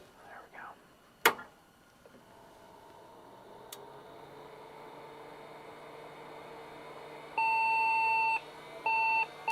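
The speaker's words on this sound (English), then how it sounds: "got our angry video card beeps" Two electronic video card error beeps sound from an HP computer, a long steady tone followed by a shorter one, over a low hum after a click and faint murmuring.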